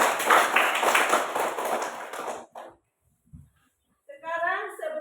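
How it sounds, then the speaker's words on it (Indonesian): A classroom gives a dense burst of clapping for a student named Putri. It fades out after about two seconds, leaving near silence before a voice begins speaking. "Sekali lagi kita berikan aplaus kepada Putri"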